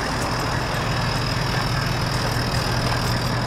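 A bus engine idles at a steady, even rumble, continuous and fairly loud throughout with no voices over it.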